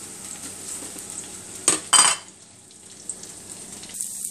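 Vegetables fry in hot oil in a pan for a Chinese Canton chicken stir-fry, a soft continuous sizzle broken by two sharp clattering bursts of utensil on pan, then quieter stirring.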